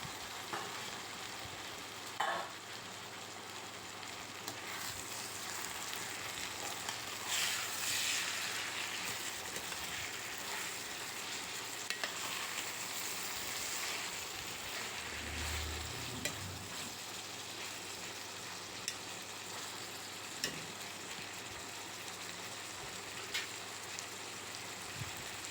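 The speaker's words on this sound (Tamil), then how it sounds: "வெங்காய தக்காளி நல்லா வதங்கிட்டு இருக்கு." Onions and tomatoes sauté in a pan for tomato thokku, giving a faint, steady sizzle that runs without a break and is heard on its own.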